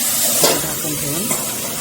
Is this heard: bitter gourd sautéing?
yes